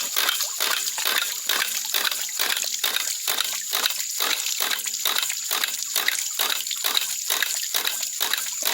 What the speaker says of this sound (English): We'll go ahead and open our creek supply and start the pump.